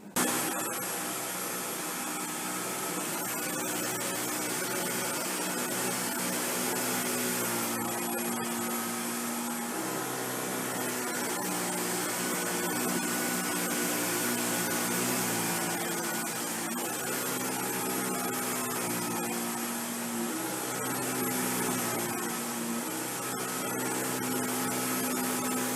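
A Dyson V15 Detect cordless vacuum runs continuously over carpet strewn with short white pet hair and long black human hair, a steady close motor whine with slight shifts in pitch as it moves, and no voices.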